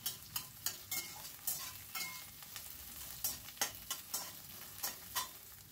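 Chopped onion frying in oil in a pan while peas cook, with a soft continuous sizzle and repeated light scraping stirs at a quiet, close level.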